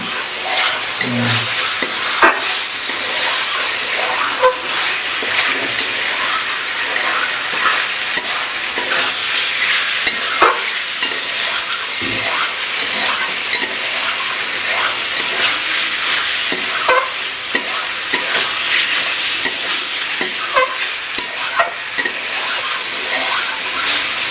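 Pork stir-frying in a pan for kosha, a loud, continuous sizzle broken by frequent scraping strokes from a spatula, close up and with no talking.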